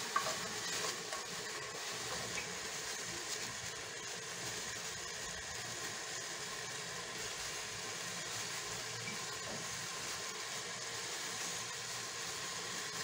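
Large onion rings sizzle in hot fat inside a pressure cooker, a steady, dense frying hiss that runs evenly from start to finish at close range with no talking.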